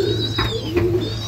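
Soft pigeon coos sound from a pigeon loft, a couple of short calls rising over a steady low hum.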